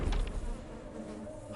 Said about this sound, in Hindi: बेचारे मच्छर, भोले भाले मच्छर, कितनी आजादी से उड़ रहे थे